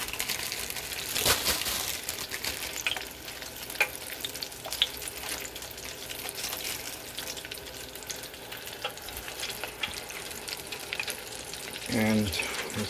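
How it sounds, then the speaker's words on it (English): Chicken deep frying in hot oil at 375 degrees gives a steady, dense sizzle and crackle throughout, with occasional clinks and rustles of handling nearby. "this deep fry, hopefully it doesn't spill out oil"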